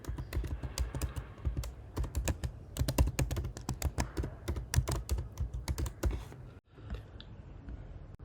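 An email ID typed on a computer keyboard, rapid close clicking keystrokes in bursts that stop near the end, no talking.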